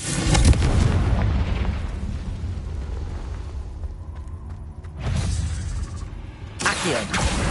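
Deep booming blasts from the Confringo fire spell in Hogwarts Legacy echo through a cave, with a loud rumbling explosion at the start, another around the middle and a third near the end, each trailing off into reverberation.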